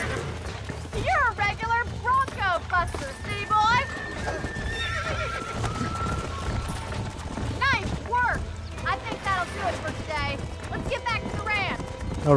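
A horse galloping in the Red Dead Redemption video game, with rhythmic hoofbeats and repeated whinnies, while people talk over the action.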